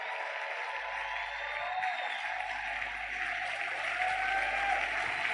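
A church congregation applauds to acclaim God, dense sustained clapping from a crowd that carries steadily through the whole moment, with no talking.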